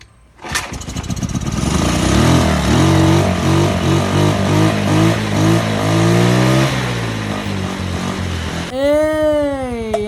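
Motorcycle engine starting and revving after a carburetor diaphragm repair out in a forest: a sharp catch, then a loud, steady, buzzing run that rises and falls, close by, with a brief change in tone near the end.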